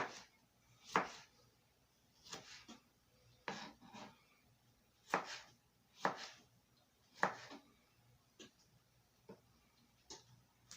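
A knife chops tomatoes on a cutting board in a home kitchen, giving a series of quiet, irregular knocks in small clusters with gaps between them, close and faint against a soft background hum.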